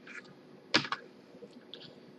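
Typing on a computer keyboard while entering data in an Excel spreadsheet: a few light, close key clicks scattered over a quiet room, with one sharper double tap near the middle.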